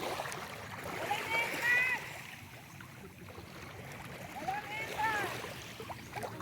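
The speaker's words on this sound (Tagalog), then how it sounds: "nakaka-relax talaga yung tunog ng tubig" Water splashes and churns beside a boat on a trip around Romblon, a soft, steady wash with two louder swells, heard under people chatting nearby.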